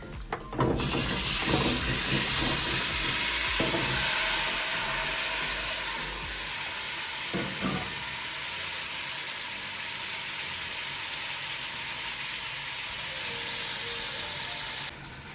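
Turkey neck meat for Jamaican-style curry hits a hot pot with a loud, sustained sizzle and hiss that lasts nearly the whole time, with a few scraping clatters early on before it settles into a steady crackle.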